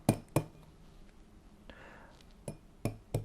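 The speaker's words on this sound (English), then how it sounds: "cracking it on the side of a glass" An egg tapped against the side of a glass in a home kitchen, several sharp close clinks: two quick ones, a pause with a faint rustle, then three more spaced knocks.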